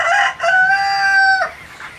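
A 21-day-old broiler flock on a farm in hot weather, with a loud, close, drawn-out crowing call and some brief clucks.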